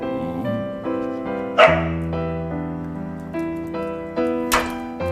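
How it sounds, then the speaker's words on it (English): A dog barks and whimpers in short, separated bursts, loud and close, with a few higher yips mixed in and no talk over it. "The dog immediately saw a glimmer of hope and called Lao Hei over to help."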